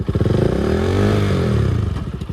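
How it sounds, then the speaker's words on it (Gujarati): Motorcycle engine running loud and close with a steady pulsing idle that swells slightly in pitch and level, then settles back, with no voices. "હવે આપણી બાઇક લઈને જઈએ."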